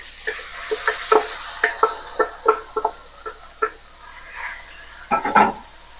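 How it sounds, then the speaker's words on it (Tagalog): Meat is being sautéed with onion and garlic in a pan; a spatula scrapes and taps in a loose, irregular rhythm, close and fairly loud, with a short burst of hiss partway through and no talking. "Igisa na natin guys tong sibuyas at saka bawang. Ayan, pwede natin ilagay itong karne."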